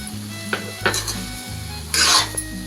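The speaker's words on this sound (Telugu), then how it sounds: "ఇలా కలుపుతూనే ఫ్రై చేసుకుంటే ఇలా దగ్గర పడింది." A spoon scrapes and stirs carrot halwa with sugar frying in a pan, soft sizzling under repeated clanking strokes against the metal, close and fairly loud.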